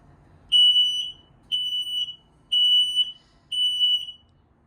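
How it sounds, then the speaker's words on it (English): A carbon monoxide and LP detector inside a 2025 Forest River Rockwood Ultra Lite 2908RL travel trailer gives four evenly spaced high-pitched electronic beeps, each with a brief stutter, clear and close. "Also has a carbon monoxide LP detector. It's gonna give you that little sound."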